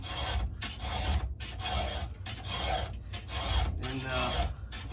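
A hand file sharpens the chain of a Stihl MS 441 chainsaw in close, steady rasping strokes, each separated by a brief gap as the file is drawn back.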